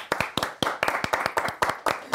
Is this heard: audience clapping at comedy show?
yes